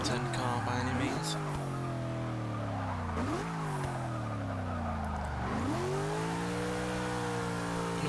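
A turbocharged 1974 Toyota Corolla SR5 in Forza 6 revs hard, its loud buzzing engine note climbing, dropping with each gear change and climbing again, with tire squeal underneath.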